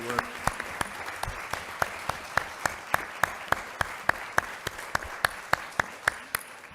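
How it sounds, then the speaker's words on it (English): Applause for a communications department at a school board meeting, with one clear clap repeating in a steady beat about every third of a second over a low murmur of room sound, fairly faint and continuing throughout. "give our communications department and Mr. Ulmer a big round of applause"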